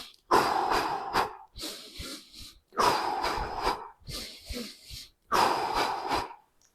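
Rhythmic breathing of a runner, loud and close, in four strong, regular bursts of forceful in and out breaths timed to the stride, with brief quiet gaps between them and no talking.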